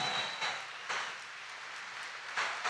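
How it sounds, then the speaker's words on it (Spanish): Congregation applauding in a church service, a steady broadband wash of clapping with brief swells, moderately loud and without talk. "vamos a darle el mejor aplauso a nuestro Dios"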